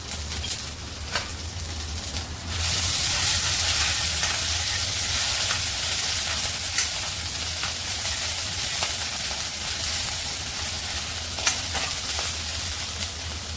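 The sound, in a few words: ginger garlic paste and cumin frying in oil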